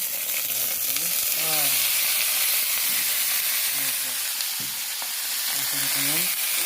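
Onions fry in a hot pan while being stirred, giving a continuous sizzle and hiss broken by spoon scrapes, with faint voices in the background.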